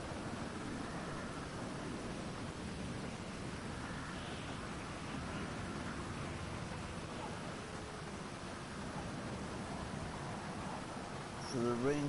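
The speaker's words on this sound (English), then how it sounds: "So the rain should leave us in 1 minute, which is a good sign." Rain falls in GTA 5 during an airshow, a steady, soft, broadband hiss that stays even and fairly faint throughout, with a brief louder bump near the end.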